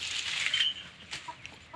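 Chickens on a village farm, a rooster among hens, give soft, fairly distant clucks and short calls in scattered bursts over quiet outdoor background, with no voices.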